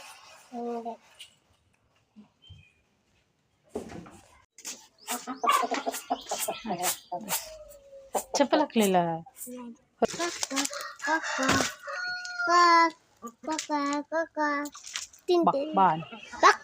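Chickens clucking as they are fed rice and a rooster crowing nearby while people, including a child, talk over them in short bursts.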